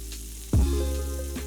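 A burger patty sizzles in a hot pan, a steady frying hiss with a sudden louder burst partway through as it settles, then continuing close and even.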